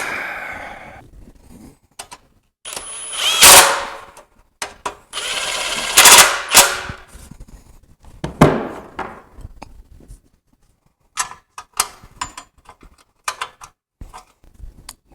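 Bolts are fastened during a homemade tri-fuel engine upgrade, producing intermittent bursts of close mechanical clicking, rattling and ratcheting separated by quiet pauses.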